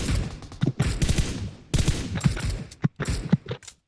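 Gunfire in the video game PUBG Mobile: rapid bursts of shots in several clusters, loud and close, separated by short pauses.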